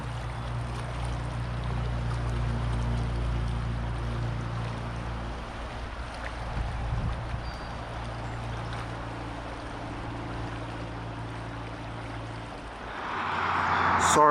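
River water flows steadily nearby under a low, constant rumble, with a rise in noise near the end as the sound shifts closer.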